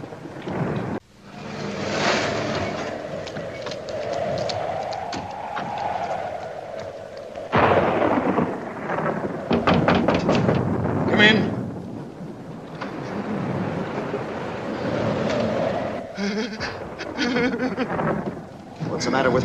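Thunderstorm in an old monster film, with long rolling thunder rumbles and a steady wash of rain filling the whole stretch, one sharp crack partway through.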